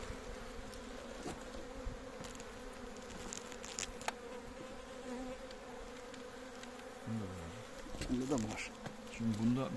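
A dense, steady drone of many honeybees buzzing up close at an open hive, with a few individual bees zipping past louder near the end.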